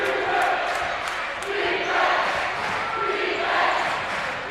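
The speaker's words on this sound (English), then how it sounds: "Now the senior night crowd starting to get into it a little bit" Senior night crowd at a high school basketball game between Covenant Christian and Bethesda Christian, a steady rumble of cheering and chatter swelling in waves with a few sharp calls, loud and close around the listener.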